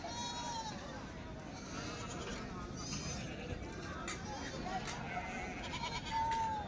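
Goats bleat repeatedly, some near and some farther off, at a goat market in Yenegur, Umarga taluka, amid a busy crowd with people talking all around.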